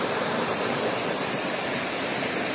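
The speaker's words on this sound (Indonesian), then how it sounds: "Ini dari aliran sungai" Clear river water rushes along a stream in Bukit Barisan Selatan National Park at Kubu Perahu. The flow is a dense, loud, continuous hiss heard up close, with no voices over it.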